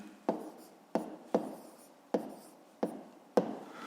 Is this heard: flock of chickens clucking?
no